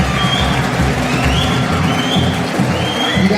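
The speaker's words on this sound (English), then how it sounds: "Give them a round of applause." A crowd cheers and whoops at a junior high school spring concert with a broad, continuous wash of noise, loud and lively, a few shouts rising above the din.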